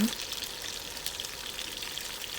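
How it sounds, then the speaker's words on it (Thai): Sliced sea bass pieces, about 400 grams, pan-frying in leftover oil in a wok for a sweet and sour dish: a steady, dense crackling sizzle without pause. "นำปลากระพงที่แล่หั่นชิ้นประมาณ 400 กรัมนะคะ ลงไปจี่นะคะ ไปกิวในกระทะนะคะ ให้เหลือง"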